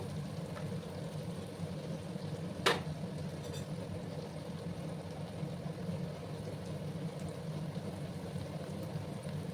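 Chopped onions fry in a pan while an omelette curry is prepared, a faint, steady sizzle that hisses evenly throughout, with one sharp clink partway through.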